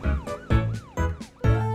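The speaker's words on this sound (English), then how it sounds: "turn on my siren to give a warning to bad guys" A cartoon police truck's siren wails in repeating rising and falling sweeps, loud and steady, with no talking over it.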